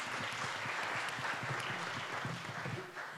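An audience at a Nordic–Baltic security panel discussion gives a steady round of warm applause, dense and sustained before gradually thinning at the end.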